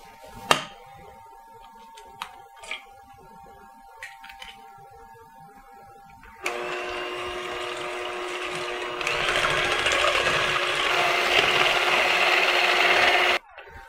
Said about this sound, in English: I'm going to start by beating 3 whole eggs.